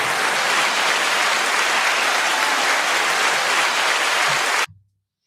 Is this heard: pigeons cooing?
no